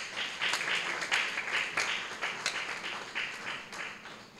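Applause from an audience at a poetry reading event, a crowd of hands clapping in a dense, uneven patter with brief louder bursts, moderately close and sustained for several seconds.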